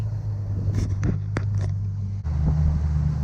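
A 50 horsepower outboard boat motor running against strong current in about three feet of water, a loud steady low drone with wind buffeting and a few brief knocks, no speech.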